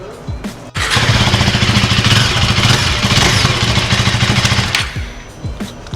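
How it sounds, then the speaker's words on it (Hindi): KTM Duke 390 motorcycle on its stock exhaust, with a rapid burbling idle at first, then a sharp rev that holds a loud, steady, throbbing exhaust note before dropping back to a pulsing idle. "तो स्टॉक का साउंड मैं आपको सुना देता हूं।"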